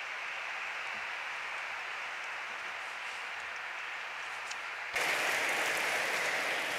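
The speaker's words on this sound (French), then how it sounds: "Je vous demande de l'accueillir avec un applaudissement." An audience applauds to welcome a speaker at a conference on restorative justice, a dense, even wash of clapping that swells louder near the end.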